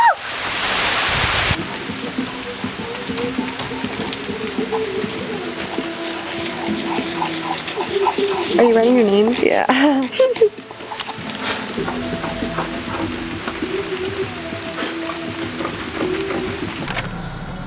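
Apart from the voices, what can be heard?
heavy rain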